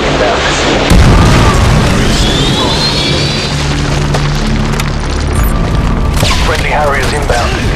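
A missile strike explodes in Modern Warfare 2 Team Deathmatch on the Salvage map: a loud, deep boom hits about a second in, then a long rumbling, crackling roar that carries through to the end, with game voices over it.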